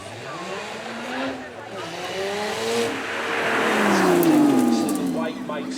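A Lotus sports car with a 3.5 litre V6 accelerates at the Beaulieu Supercar Weekend, its loud engine note rising and falling in revs while someone talks over it.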